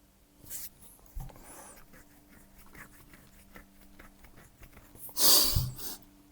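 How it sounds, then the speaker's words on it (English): A knife scrapes the underside of a Fokker D.VII model aircraft fuselage part in faint, scratchy strokes, ending in a louder, brief scraping burst close to the end. "here I'm gonna scrape a bit with a knife on the bottom too to make it easier"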